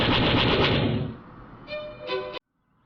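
Laser cannons fire in the Age of War game as a dense, loud rattling burst that thins into ringing electronic tones and cuts off abruptly into silence.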